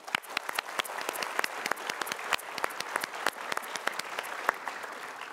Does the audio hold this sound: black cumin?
no